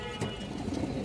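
Army pigeons coo softly in a brief, faint burst of low throaty calls, heard with no talking.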